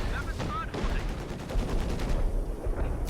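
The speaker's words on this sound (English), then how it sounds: "No, in comes scavenge artillery!" Scavenge artillery barrage in a strategy video game match, with dense, continuous rattling bursts of fire and booming impacts throughout a short, loud stretch, with no talking.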